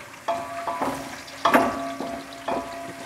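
Onions fry in a pan until browned for chicken biryani, with a sizzling hiss and several distinct stirring scrapes roughly every half second, the loudest near the middle, and no voices.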